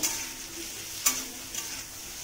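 Potatoes frying in a pan give a steady, close sizzle with one brief scrape of a spoon midway, no voices.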